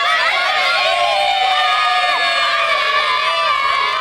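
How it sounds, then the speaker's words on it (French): Crowd and local children cheering at the start of the Paris-Nice cycling race in the Yvelines, a steady dense wash of shouting, whooping and high children's voices, loud and close throughout. "Le départ a été donné à 12h25 sous les applaudissements de la foule et des enfants de la commune présents pour l'événement."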